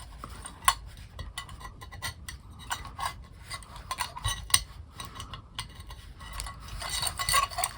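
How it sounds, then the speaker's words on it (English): Fine metal wire being twisted through the large hole in a spoon for a tin-can wind chime, a close, faint scratchy rasping with small scattered clinks of metal. "That's a large hole in the spoon, so I am going to have to twist it around a little bit."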